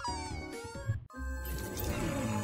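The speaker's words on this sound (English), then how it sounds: "Meow, meow." A cat meows in a few short, high, wavering cries, close and clear, followed by a sustained whining tone.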